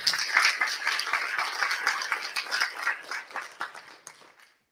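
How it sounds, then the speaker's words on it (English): Audience applause at the FOSSASIA Summit 2023 wrap-up: a dense crowd of clapping hands that stays steady for several seconds, then thins out and fades to silence near the end. "I would say also big round of applause."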